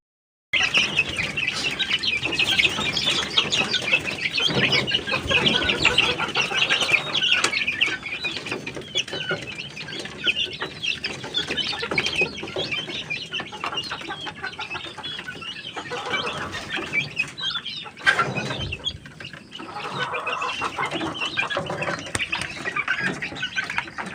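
Young chicks and hens on a small poultry farm cluck and chirp steadily and fairly close, a busy, continuous flock chatter with no talking.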